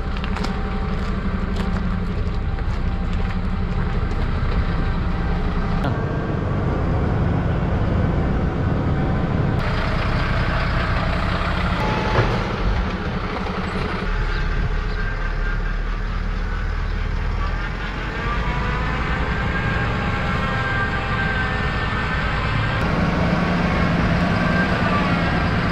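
A heavy MAN 18-330 4x4 truck with a double cab and 330 horsepower engine drones steadily throughout, with road rumble and occasional rattles, loud and close as it drives along.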